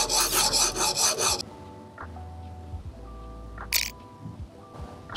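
Rhythmic rasping strokes of an S290 steel knife edge across a TSPROF Alpha 100/80 sharpening stone, several quick close passes at the start, then quieter scattered scrapes and taps.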